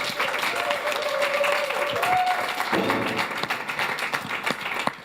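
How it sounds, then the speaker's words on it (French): A studio audience at a live French show applauds Nadra, a steady spread of clapping with a sustained tone and voices underneath, thinning toward the end. "on applaudit Nadra"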